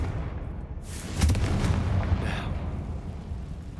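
A fiery spell explosion from the Confringo spell in Hogwarts Legacy bursts loudly once, with a rumbling roar that fades out over a few seconds against steady low ambience.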